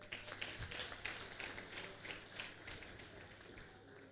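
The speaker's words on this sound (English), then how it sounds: "Clap for him." Faint, fairly quick clapping from an audience at a ceremony honouring Professor Wuraola Adebola Shokunbi. The claps form a brisk patter of distinct hand strikes that lasts the whole stretch and sounds somewhat distant.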